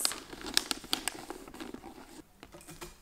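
Christmas wrapping paper crinkles and crackles close up as it is folded around a gift, in irregular crisp rustles that fade toward the end.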